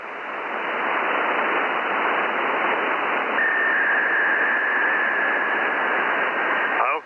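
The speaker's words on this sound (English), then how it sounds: "Okay, I hear some digital signals. The frequency is in use." Digital signals on an amateur radio frequency come through a receiver as a steady, band-limited hiss, with a thin continuous tone appearing halfway through and lasting until the sound cuts off abruptly.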